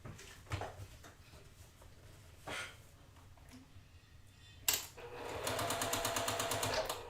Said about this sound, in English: I'm now going to be able to sew my rows together